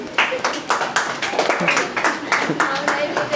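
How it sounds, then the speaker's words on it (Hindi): Students in a Class 10 classroom clap together in quick, fairly regular bursts for about three seconds, close and moderately loud, with no one speaking over it. "ताली बजाओ तो इस क्वेश्चन के लिए।"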